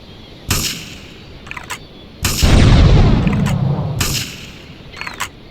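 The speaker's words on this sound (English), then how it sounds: "Investigate reports of gunfire and explosions" Gunfire and explosions from Grand Theft Auto III, set around Portland Harbor: sharp loud shots at intervals and a heavy booming blast rolling out for about two seconds, followed by more shots, with no talk.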